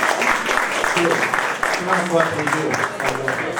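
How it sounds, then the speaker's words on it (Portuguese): Applause from attendees at a pension-reform meeting runs under a voice as he speaks into the microphone, the clapping forming a steady, fairly close bed beneath his talk. "Muito obrigado, uma salva de palmas aí."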